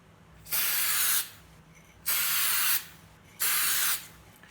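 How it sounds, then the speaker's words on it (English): A spray nozzle releases paint in three short test bursts, each a loud, even hiss lasting under a second, separated by brief quiet gaps. "I always do a bit of a test just to see if the nozzle works before I start"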